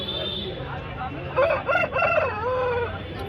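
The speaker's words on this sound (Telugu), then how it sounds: "మనము చాలా అంటే చాలా పుంజులు అయితే కనబడుతున్నాయి" Roosters crow loudly and close at a weekly chicken market in Mydukur, Kadapa, one drawn-out cock-a-doodle-doo rising over a busy background of clucking and market noise.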